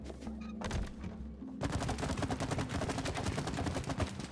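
Rapid gunfire rattles in the co-op video game It Takes Two: a dense, continuous burst of close, loud shots after a short opening stretch of firing over background game sound.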